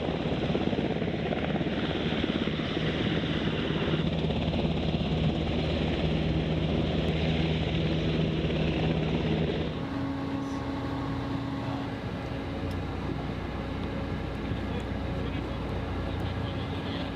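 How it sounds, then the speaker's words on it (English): Recovery helicopter flying over the ocean during a spacecraft splashdown recovery, a steady loud rotor and engine drone that continues throughout, with a shift in tone partway through. "The astronauts are then picked up via helicopter and flown back to the recovery ship."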